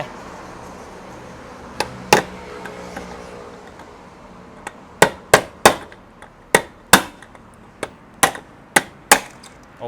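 A hammer strikes sharply about a dozen times, a few sparse blows at first, then quicker, fairly regular taps, close and loud with short ringing decays.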